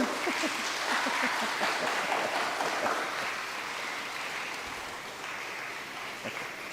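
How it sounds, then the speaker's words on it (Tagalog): Scattered, light clapping from a small church congregation at a Sunday worship service, thinning and fading as it goes on, with murmuring voices underneath. "Ang hina naman ng palakpak natin."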